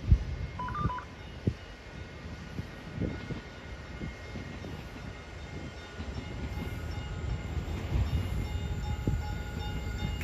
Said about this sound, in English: here comes Caltrain 623